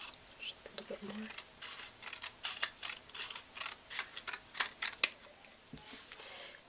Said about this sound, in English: I'm using my scissors. I am actually just going to cut this down.